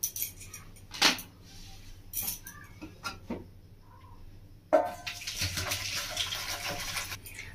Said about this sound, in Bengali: কড়াটা ধুয়ে আমি ভালো করে পরিষ্কার করে নিয়েছি।